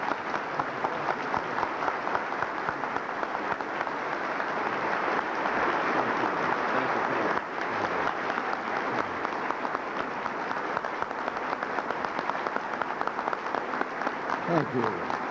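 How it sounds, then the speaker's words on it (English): A crowd at the 1987 Bicentennial of the US Constitution celebration in Philadelphia applauds the President of the United States in sustained, dense clapping, with voices mixed in under it throughout. "Ladies and gentlemen, let's applaud him right now"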